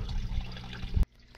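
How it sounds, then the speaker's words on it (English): Hydroponic nutrient solution poured into a Dutch bucket reservoir, a close, continuous splashing pour that stops abruptly near the end and leaves quiet room tone. "I'll just pour it in that reservoir."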